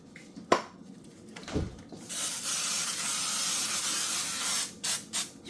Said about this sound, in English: Spray a little Baker's Joy on it